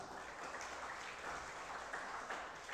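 Soft, distant clapping from a church congregation praising the Lord, a faint continuous wash of applause without clear speech.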